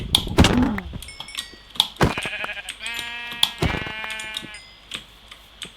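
Several sheep bleat in quick succession, a wavering nasal cry repeating over a busy background of clicks and tones typical of game audio.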